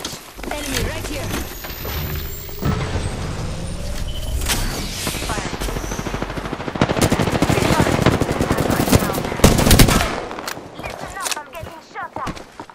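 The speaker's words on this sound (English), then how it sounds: "Pick it up, I'm getting shot at. Taking fire." Sustained video game gunfire rolls through a firefight, rapid automatic bursts and scattered single shots coming in clusters and growing heavier toward the end, with a player's voice speaking over parts of it.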